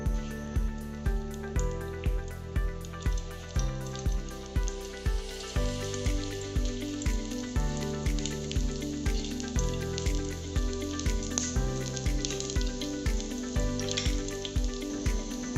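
Chopped garlic browns in ghee in a pan, giving a steady close sizzle and crackle while soft music with a regular beat plays throughout.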